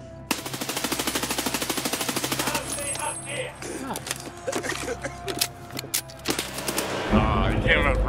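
Fast automatic gunfire in Escape from Tarkov rattles in a steady burst, followed by scattered shots, clicks and movement noises, with a voice talking partway through.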